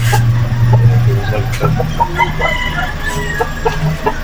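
Heritage chickens on a farm cluck and call repeatedly, near and fairly loud, with a steady low hum underneath and brief calls scattered throughout.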